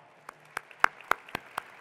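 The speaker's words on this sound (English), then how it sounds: "we owe all of you a round of applause as well" Sparse, evenly spaced claps sound at an awards event honoring veterans, about seven sharp hand claps in a steady rhythm, fairly quiet against a faint room hum.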